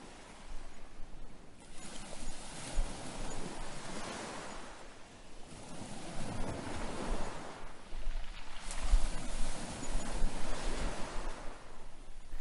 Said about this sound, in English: We are right by the beach here.